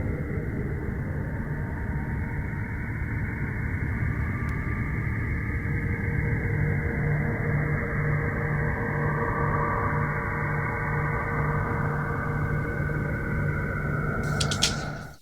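Altered NASA space recordings compiled into a song intro form a steady, dense droning wash with a low hum throughout, holding at an even loudness for about fifteen seconds before a brief crackle at the end.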